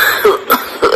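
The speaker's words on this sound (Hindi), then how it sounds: "वो बूढ़ा खांसते हुए कहता है" An old man coughs in a few short, harsh bursts, close and clear, with no talking.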